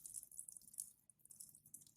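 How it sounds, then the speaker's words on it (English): Running tap water hisses faintly over a glass laboratory flask as it cools after autoclaving, a soft, steady, close wash of flowing water with no talk. "This is cooled under running water."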